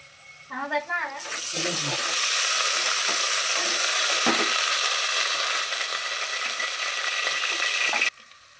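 Onion sizzles loudly in a hot pan while being stirred, a steady close frying hiss with scraping, starting after a brief voice and cutting off abruptly near the end.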